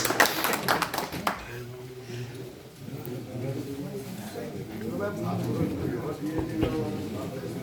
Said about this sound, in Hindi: ताली बजाइए एक बार भाई साहब के लिए